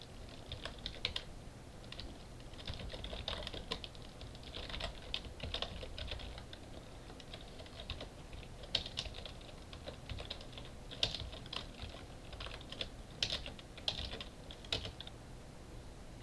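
Quiet keystrokes on a computer keyboard as a command is typed, an irregular run of soft clicks and taps at close range, with no voices.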